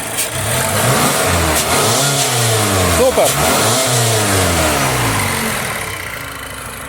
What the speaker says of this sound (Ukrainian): Прогазовочку можете зробити?